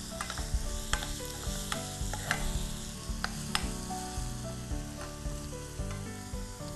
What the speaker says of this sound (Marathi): जो तडक्याचा आवाज येतो, वास येतो